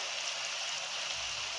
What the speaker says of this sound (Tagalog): Lakas ng ulan sa labas